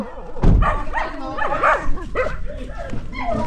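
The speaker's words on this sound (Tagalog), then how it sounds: "Dami aso." Several dogs bark and yip close by, overlapping with people talking in a lively outdoor setting.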